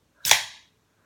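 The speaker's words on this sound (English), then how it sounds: "That's the sound of a open beer" A beer being opened: a single sharp, bright pop or hiss burst, close and short, fading within about half a second, with no talk.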